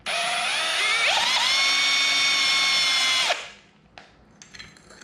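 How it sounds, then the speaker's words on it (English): A hand drill countersinking holes whines loudly and steadily for about three seconds, its pitch rising as it speeds up, then cuts off, followed by a few faint clicks. "hand drill will do fine."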